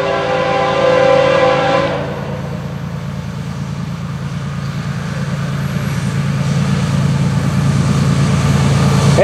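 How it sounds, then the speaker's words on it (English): A train horn sounds loudly at first, then the FEC101 train rumbles past steadily with a heavy low roar. "this is the hot train, Walter."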